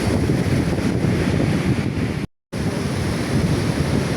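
Ocean waves wash steadily onto Pantai Mandiri beach in Krui, West Pesisir, Indonesia, with a constant roar of surf and wind, briefly cutting to silence partway before resuming.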